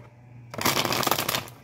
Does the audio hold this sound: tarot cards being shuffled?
yes